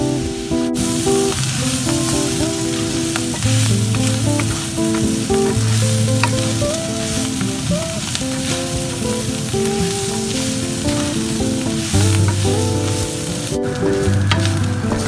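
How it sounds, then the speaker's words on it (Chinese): River shrimp stir-fry over low heat in a wok with light soy sauce, giving a steady close sizzle with tossing and stirring clatter throughout and no talk. "再加一点生抽，然后再快炒。"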